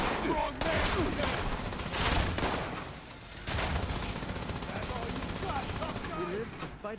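Gunfire in the video game Fallout 76 comes in loud, rapid bursts of shots that stop and restart, mixed with excited voices talking over the action.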